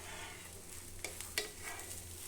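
A dosa roasts on a hot pan with a faint, steady sizzle, broken by a couple of soft scraping clicks, probably from a spatula.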